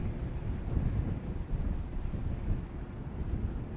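Steady low wind buffeting a microphone outdoors at Amsterdam Schiphol Airport, a continuous rumbling roar that swells and eases slightly without pause, with no other distinct sounds.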